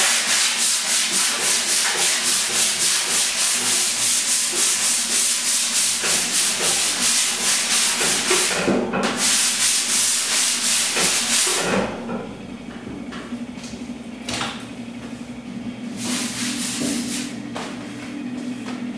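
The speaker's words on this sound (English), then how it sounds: "So what I'm going to do is just go ahead and sand this, and we'll reveal the highs and lows metal." A body panel being sanded by hand to show its high and low spots: a loud, steady rhythmic rasp of back-and-forth strokes, with a brief pause, then softer, lighter strokes.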